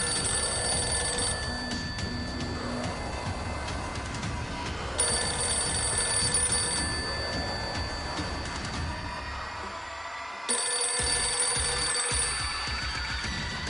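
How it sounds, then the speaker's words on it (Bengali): An old TNT landline telephone rings over and over in long repeated electronic bursts with short gaps between them, loud and close, with no one speaking. "এমন সময় টিএনটি ফোনটা বেজেই যাচ্ছে।"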